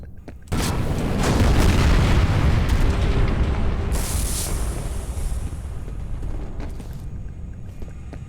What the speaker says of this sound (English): the whole area is exploding